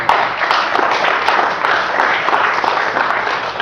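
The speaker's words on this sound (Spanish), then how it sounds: "¿Cuánto le dan un aplauso a Dios por eso?" A church congregation applauds during a sermon, a steady, dense wash of clapping that fills the room for several seconds.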